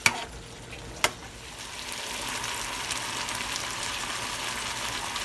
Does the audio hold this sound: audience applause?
no